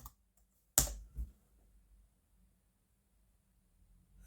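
Keys clack on a Jumper Ezbook A5 budget laptop keyboard while a command is typed: one sharp, close tap burst, a second softer strike just after, then near silence.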